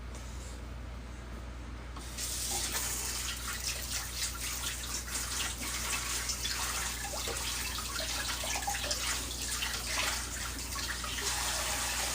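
A pan is rinsed under running water, which starts after about two seconds as a close, loud, steady rush from the tap and splashes unbroken until the end, with no voices.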